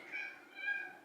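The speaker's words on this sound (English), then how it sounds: "I'm sorry if you can hear the cat meowing." An indoor house cat gives a drawn-out, faint meow that wavers across about a second, heard alone with no talk.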